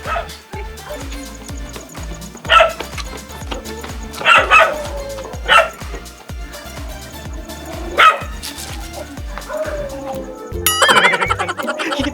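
Several dogs bark in short bursts during a downhill jog outdoors, with a few louder yips standing out over footsteps and movement noise; a brief clatter of sound near the end.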